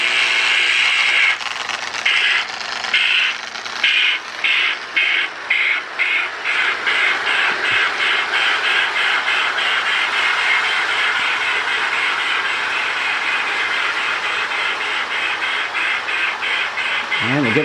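A Lionel MPC Chessie steam locomotive model runs with its electronic steam sound, a steady rhythmic chuffing hiss that pulses at first and then blurs into a continuous loud rush, close up and with no talk.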